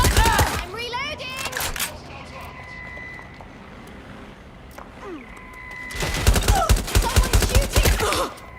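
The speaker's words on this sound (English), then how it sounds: "Someone's shooting." Rapid bursts of gunfire crackle in Watch Dogs Legion, starting near at the opening and returning as a dense, loud volley in the final seconds. Quieter ambient game noise fills the middle stretch, and voices speak at times.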